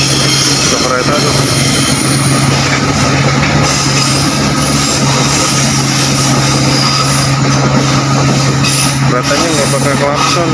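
Train passing near a dredging project site in Indonesia, sounding no horn; a loud, continuous rumble and rattle of wagons with a steady low drone persisting for about ten seconds while someone talks over it.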